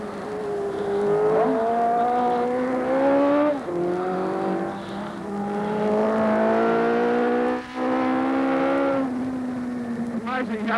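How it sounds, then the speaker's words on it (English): Production motorcycles racing downhill on the mountain at the 1981 Easter Bathurst races, engines rising in pitch through gear changes as they pass at a distance, with a commentator talking over them. "Amazing how fast they get these production bikes around."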